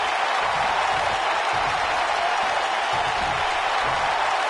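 Crowd noise from a WWE 2K19 wrestling video game, a loud, dense and unbroken wash of cheering and applause that holds steady throughout with no clear voice on top.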